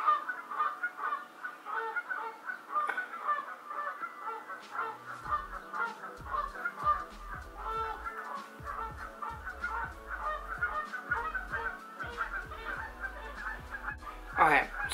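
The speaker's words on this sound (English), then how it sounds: "you're going to be able to hear the geese" A flock of geese honks repeatedly in the background, a constant chorus of calls with a low hum underneath and occasional louder honks.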